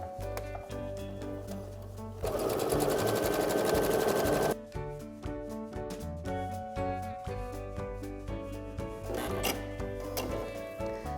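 A sewing machine stitches elastic onto a sweater hem, with a loud, steady whir lasting about two seconds in the middle, set against continuous tonal background music.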